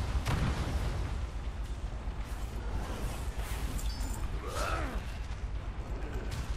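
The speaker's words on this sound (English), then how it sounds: "That is a lot of bombs." Bombs go off in World of Warcraft, a cluster of deep booming blasts and rumbling bursts that overlap amid busy battle effects, fairly loud and continuous.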